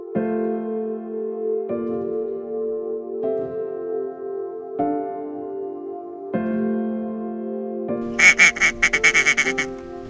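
Ducks quack in a quick rhythmic burst of calls near the end during a waterfowl hunt, after several seconds of sustained tonal music.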